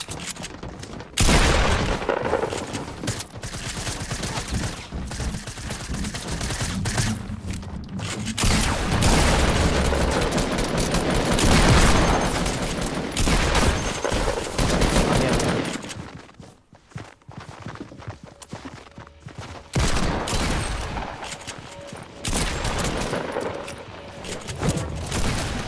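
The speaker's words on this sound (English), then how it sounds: "Who's shooting at me?" Heavy video game gunfire and explosions roar almost nonstop, loud booms and rapid bursts layered with footsteps, easing briefly before the barrage picks up again.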